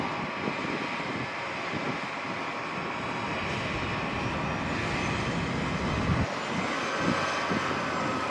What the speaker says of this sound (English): Delta 1445 and another A319, former Northwest, from Portland, Oregon.